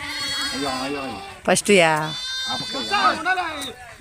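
Young animals bleat repeatedly with wavering, high-pitched cries, close by, while a person talks over them.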